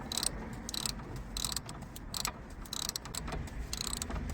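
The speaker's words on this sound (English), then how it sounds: "Just gonna drive in this 22mm bolt" A hand ratchet clicks in quick, faint bursts while driving a 22mm bolt into a VW Sharan during drive shaft work. The close, dry clicking comes in short runs with brief pauses between them.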